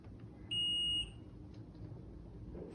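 A multimeter in continuity mode gives a single steady electronic beep, about half a second long, while its probes touch pins of an IC7400 chip and a trim pot on an electronics lab bench, set over low background hum.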